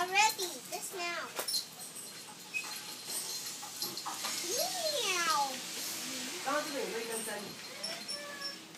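A person's voice imitates a cat's meow several times inside a pet store with two dogs, giving rising and falling mewing calls amid other chatter and background noise.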